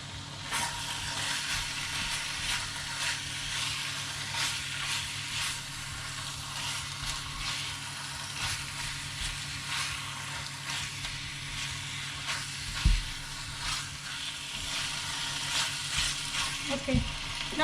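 Coconut chicken fries steadily in a pan while salt, sugar and a Maggi block go in, giving a continuous close sizzle with occasional stirring scrapes and a few clunks near the end.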